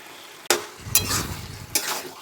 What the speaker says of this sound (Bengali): অল্প পরিমাণ গাওয়া ঘি দিয়ে আবার ভালোভাবে এটাকে নেড়ে নিতে হবে